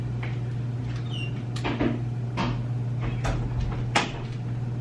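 A door closes indoors in a Los Angeles room, heard as a few short knocks and clicks over a steady electrical hum, with no talking.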